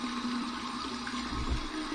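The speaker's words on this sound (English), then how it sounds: "So, here's my cold water rinse to close my pores." Cold tap water runs steadily into a sink for a rinse after shaving, a continuous even rush with no pauses or talking.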